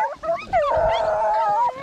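Hunting dogs howl during a rabbit hunt on a farm, a close, drawn-out wavering howl with yips at the start, heard alone without talk.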